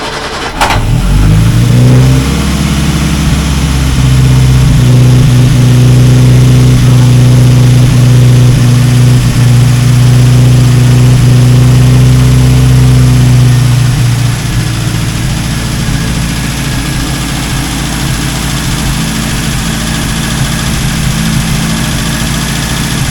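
An Austin A35 engine, freshly repaired after a head gasket job and with a rebuilt carburettor, cranks, catches and roars loudly near the microphone, then settles into a steady idle that softens after about fourteen seconds.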